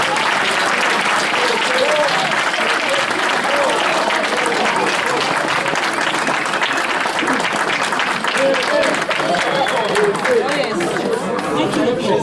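An audience at a Democratic Alliance presidential event applauds after a speech, loud continuous clapping filling the room for over ten seconds, with chatter and voices mixed in beneath it.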